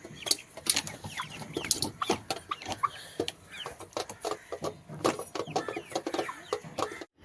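Caged hens in a home hen-farming setup cluck in short, uneven bursts, close and fairly loud, with overlapping calls filling the stretch and a brief pause near the end.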